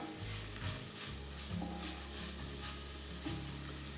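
Minced garlic sizzling steadily in a hot pot, with a few soft scrapes of a spoon stirring it, quiet and close with no talking.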